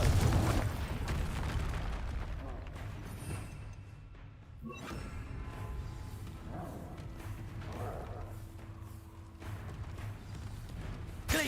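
A Confringo blasting spell in a wizard video game: dense, rumbling explosive bursts and thuds that run almost continuously, with a brief dip midway before the crackling blasts resume at a steady, fairly loud level.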